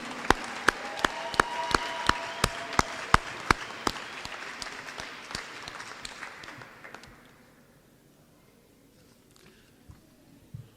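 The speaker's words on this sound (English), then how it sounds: "Let's give a round of applause to all of you." Graduation ceremony audience at a business school clapping, with loud sharp individual claps near the mic standing out over the crowd's applause, which fades away after about seven seconds into near quiet.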